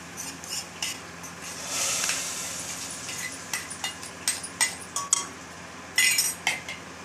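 A spoon stirs tempering into chana dal in a metal pot, scraping, with irregular clinks and taps against the sides growing sharper toward the end.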